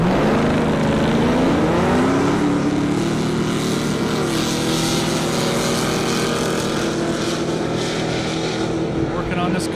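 A 1968 Camaro with 1,600 horsepower races a ZL1 with 650 at an airport drag strip, their engines roaring loud and steady throughout, with an announcer's voice running over the noise.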